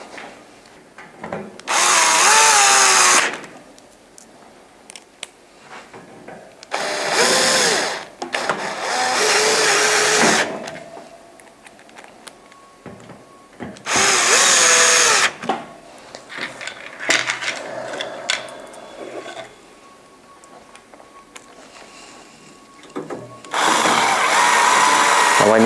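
Power drill driving screws into a fan grill in repeated loud, whirring bursts of one to three seconds. The bursts are separated by quieter pauses filled with clicks and faint handling noise.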